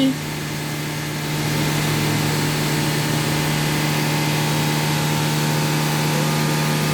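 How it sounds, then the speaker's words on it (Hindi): A car engine held at raised revs in a workshop during a live sensor-data check, a steady, loud, continuous drone with a constant hum and no audible talk. "मैं आपको रेस करके दिखा देता हूँ"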